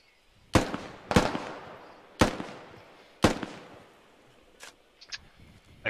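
Rifle gunfire in the tactical shooter Squad: four sharp, fairly loud single shots about a second apart, each with a ringing echo tail, followed by a few fainter, more distant cracks.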